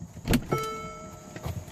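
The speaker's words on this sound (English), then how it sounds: "Actually, I'm going to turn the car off." A Mercedes-Benz car is switched off, producing a couple of close mechanical clicks and a brief electric whir or chime that fades into quiet. No one talks.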